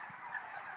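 Turkeys gobble and call together on an Alberta turkey farm housing about 15,000 birds, a brief, dense overlapping chorus of honking calls heard close and fairly quiet.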